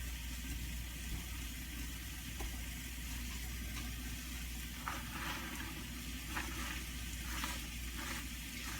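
Home-sprouted mung bean sprouts hit a hot stir-fry pan with sweet potato, producing a steady, close, even sizzle with a few sharper crackles near the end.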